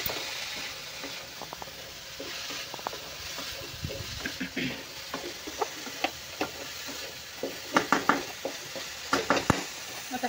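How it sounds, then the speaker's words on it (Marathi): Sliced capsicum and cabbage sauté in a pan with a light sizzle, broken by frequent spatula scrapes and clinks against the metal that grow louder and more rhythmic toward the end. "छान परतून घ्यायचं आहे आपल्याला."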